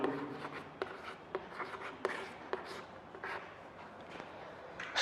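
Chalk or marker strokes on a board during a Hindi class, a run of quick scratchy taps and short scrapes, close and moderately loud with room noise and no speech.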